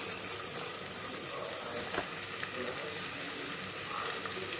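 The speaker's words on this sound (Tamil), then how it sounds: "இந்த எண்ணெயில் எல்லாமே தாளிச்சு விட்டாச்சு." Spices tempering in hot oil, a steady, continuous sizzle and crackle of frying that holds an even level throughout with no pauses, close and moderately loud.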